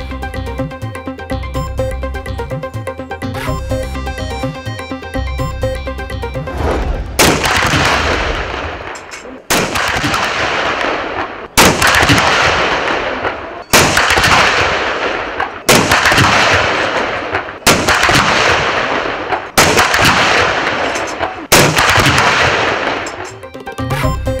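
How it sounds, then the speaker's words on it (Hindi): Pakistan Army cannons fire a 21-gun salute in Lahore on 23 March, heavy booming blasts at regular intervals with long echoing decay, loud and close, following a stretch of band music. "पाक फौज के चाको चौबंद दस्ते ने इक्कीस तोपों की सलामी दी"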